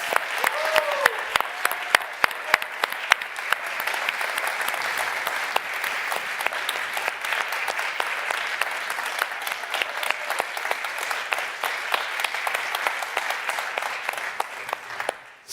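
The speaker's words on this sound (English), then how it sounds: "everyone give them a warm welcome and a round of applause" A large summit audience at a forum event gives a sustained round of applause, dense continuous clapping that stays loud and steady for the whole stretch, with a brief voice at the very start before fading at the end.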